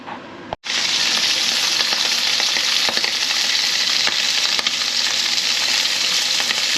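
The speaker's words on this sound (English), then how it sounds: "got my pan heating up here, guys. Get that nice and hot, and then we'll start with the prawns and get them on" Prawns frying in a very hot pan give a loud, steady, dense sizzle that bursts in suddenly after a brief silence and holds evenly throughout, with faint crackles and no talking.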